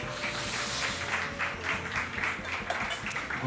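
A church congregation at a Korean Sunday service applauds after a baptism, a dense and fairly quiet patter of many hands clapping steadily with no one speaking over it.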